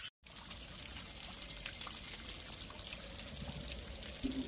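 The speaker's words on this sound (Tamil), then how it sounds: "இந்த மாதிரி வந்து தண்ணியை ஃபுல்லாக வந்து நீங்கள் குளிர நனைச்சிடணும்" Water poured over a freshly wire-brushed crack in a house wall to soak it, running as a steady, close trickle and splash for the whole stretch after a brief gap at the start.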